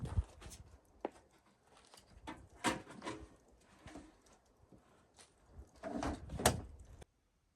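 The rear door of a 2001-07 Toyota Sequoia, with a latch that won't open, is swung and handled through a series of scattered knocks and rattles before closing with a solid thud near the end.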